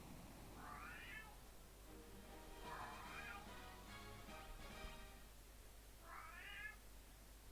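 Cat meowing three times in separate, drawn-out calls spread across a few seconds, moderately close over a steady low hum, with no talk.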